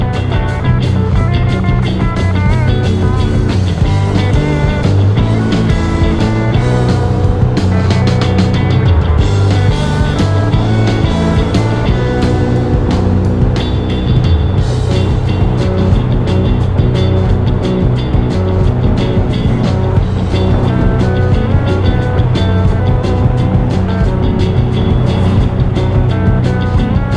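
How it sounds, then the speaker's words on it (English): Traffic on a bridge, heard from a scooter riding the freeway toward Pittsburgh, forms a loud, continuous roar of engines and rushing wind that holds steady throughout, with no voices. "traffic on the bridge."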